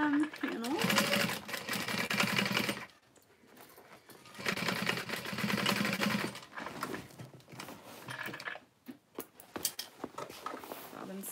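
A sewing machine stitches along the bottom panel seam of a handmade fabric bag in two bursts of steady close whirring, with a pause between them and short clicks and handling noises toward the end.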